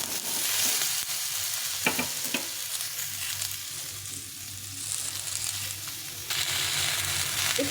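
Spinach with spices frying in a pan while being stirred, a continuous close sizzle with a few sharp scrapes of the spatula against the pan.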